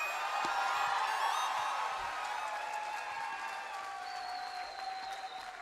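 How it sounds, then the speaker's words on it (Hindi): Sustained applause from a large crowd at a Hindu religious gathering, dense clapping that stays loud and gradually tapers slightly toward the end. "भरपूर तालियां बजाई अपने जिगर भाई के नाम पर"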